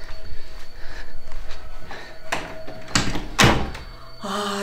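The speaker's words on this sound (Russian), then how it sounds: "Закрыть дверь. Быстрее." A door is shut in a hurry during a horror-themed escape quest, giving a couple of loud thumping bursts near the end after a stretch of muffled movement and quiet voices.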